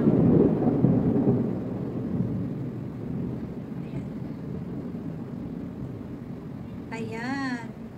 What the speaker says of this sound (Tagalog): Lakas ng kidlat. Naririnig nyo ba, guys? Kumikidlat na yan.